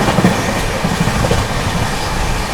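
The Maharashtra Sampark Kranti Express runs through Bilmora Junction without stopping, a loud, steady rumble of wheels on rail with faint clickety-clack throughout, close and continuous.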